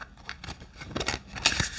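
A new deck of tarot cards is shuffled unevenly, with a series of irregular papery flutters and snaps, some louder than others. The sound is close and there is no talking.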